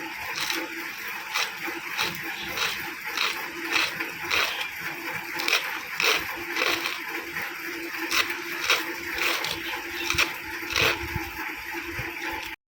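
Finely chopped vegetables washed in water in a village kitchen, with rhythmic sloshing and splashing strokes repeating about every half second, close and moderately loud.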